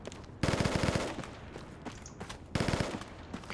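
Enemy infantry gunfire in the Project Reality video game, on the Burning Sands map: two loud bursts of rapid automatic fire, each about half a second of quick rattling shots, separated by quieter distant crackle.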